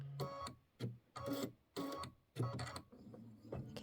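Sewing machine stitching a quilt border, with short bursts of rapid mechanical stitching separated by brief pauses, close and fairly quiet.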